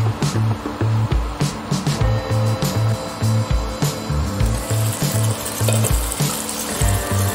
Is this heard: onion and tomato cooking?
yes